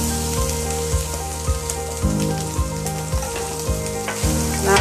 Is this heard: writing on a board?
no